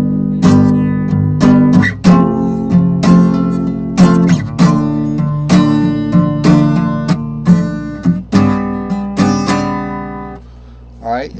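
Guitar chord progression strummed as barre chords: about a dozen bright, evenly spaced strums ring out close and loud, then fade into a short decay at the end.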